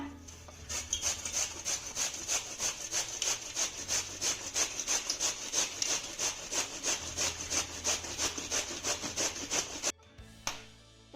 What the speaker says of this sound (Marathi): कोबी किसण्यासाठी मी अशा किसणीचा वापर करते हे बघा आपण आता हा कोबी बारीक किसून घेऊया